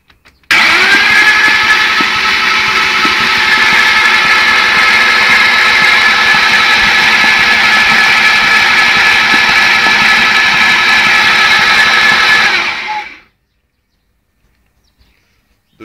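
A BMW engine flooded with fuel and washed cylinders, spark plugs out, cranks over loud and close, with the starter whirring steadily for about twelve seconds and then cutting off into silence.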